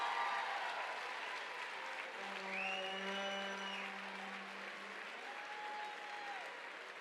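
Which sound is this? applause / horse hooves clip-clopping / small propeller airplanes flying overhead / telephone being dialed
applause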